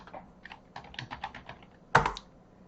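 Typing on a computer keyboard while entering data into an Excel cell: a quick run of soft, close key clicks ending in one sharper, louder keystroke, with no voices.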